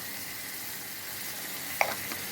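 Cumin and coriander sizzle steadily in a hot pan of oil for Egyptian fatteh, a continuous close frying hiss with a brief clink of a utensil as the spices are stirred.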